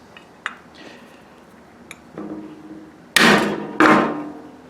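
A few light taps and knocks lead into two heavy, resonant hammer strikes near the end, close and loud with lingering decay.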